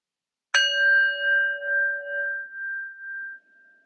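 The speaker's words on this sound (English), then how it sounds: "And we'll start by inviting 3 sounds of the bell." A single bell strike rings out clearly and then decays slowly with a gentle wavering shimmer, alone in silence.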